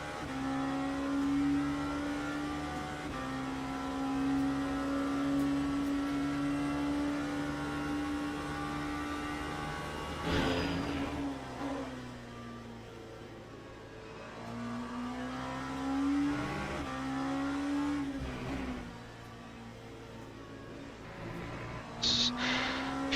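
Engine notes of LMP3 race cars in a racing video game, a steady droning whine that shifts pitch as cars pass, with a brief louder rush near the middle and another toward the end.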